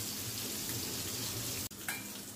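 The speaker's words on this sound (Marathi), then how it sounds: "मीडियम फ्लेम करून एका बाजूने आपण व्यवस्थित खरपूस भाजून घेऊ." Mandeli fish frying in a pan over a medium flame for Malvani-style fry, giving a steady, close crackling sizzle throughout, with one brief dip and a soft clatter near the end.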